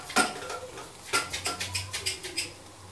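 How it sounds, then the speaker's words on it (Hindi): Carrot halwa being gently mixed in a pan with the flame off, giving a series of soft scraping and clinking strokes of a spoon against the metal, repeated roughly every quarter second, fairly close, with no talking. "अब हल्के से इसको मिक्स करके"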